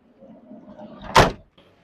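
A car's sliding door is pushed along its track and thuds shut, a short scraping roll followed by one solid clunk, close by and alone.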